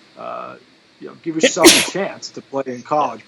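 A man sneezes once, loudly and at close range, in the middle of casual conversation, with talking before and after the sneeze.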